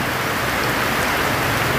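Heavy typhoon rain pours down steadily in Negros Oriental, a dense, unbroken hiss of water drumming on surfaces close by, with no voices.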